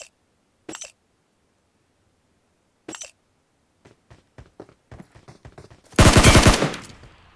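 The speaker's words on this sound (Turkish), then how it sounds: "Şöyle biraz da mermi atsam." Gunfire in the Metro Royale mode of PUBG Mobile: a few isolated sharp cracks and a patter of clinking shell-like ticks, then a loud, close rapid burst of automatic fire.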